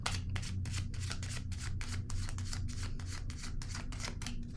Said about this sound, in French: Je vais déposer une carte sur patience